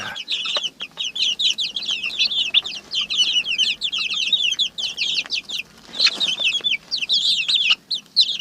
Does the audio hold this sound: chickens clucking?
yes